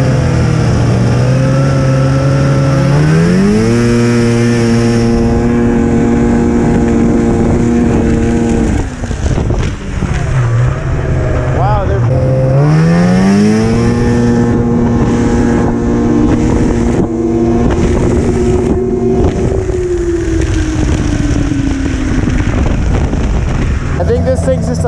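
Two 1998 Arctic Cat snowmobiles race, their engines whining loud and close as they rev, with pitch climbing and dropping through repeated accelerations, wind buffeting the microphone and voices heard faintly beneath the engine noise.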